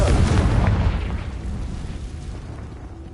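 A Confringo blasting curse explodes in Hogwarts Legacy, a heavy booming blast with a rumbling low tail that fades over about three seconds, loud and close.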